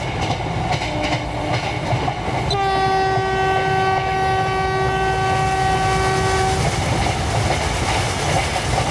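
Vande Bharat Express overtaking a goods train standing on a loop line in Train Simulator, with a steady rumble and rail clatter throughout, and one long, loud horn blast sounding for about four seconds midway.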